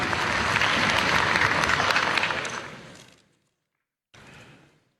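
A conference crowd of religious scholars gives dense, loud applause welcoming Prime Minister Shehbaz Sharif, then it fades into a short silence before a brief quieter burst.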